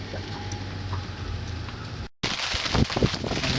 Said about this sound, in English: And out there it's raining and blowing.